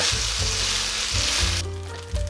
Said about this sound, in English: It's still sizzling away a little bit too much for my liking